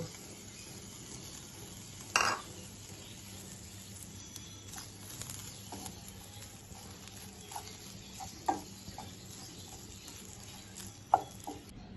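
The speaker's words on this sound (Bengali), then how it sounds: "এখন আমি ওই পেঁয়াজের কড়াইতে একটু ভেজে নিব।" Boiled prawns frying with onions in a pan, a low steady sizzle with a few sharp scrapes and clinks of a utensil against the pan, including one loud knock near the start.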